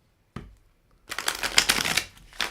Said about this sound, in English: I could actually give a class just on how to shuffle.